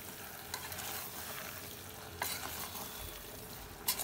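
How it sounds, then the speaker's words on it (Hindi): Jackfruit curry being stirred in a pan, a soft steady scrape of spoon against vegetables over a faint sizzle, with a few sharper clinks, close and fairly quiet. "अब मिक्स कर देना है एक बार सब्जी में अच्छे से।"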